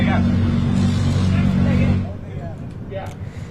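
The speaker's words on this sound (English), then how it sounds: "noisy things, aren't they, TCR cars, as it turns out" Loud TCR touring race cars roar past on the track at Donington Park, a dense, steady engine drone that cuts off abruptly partway through and leaves quieter track noise; a commentator talks over it.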